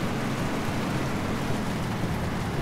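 Heavy rain in the 18 Wheels of Steel Haulin truck driving game makes a dense, steady hiss, even and unbroken throughout.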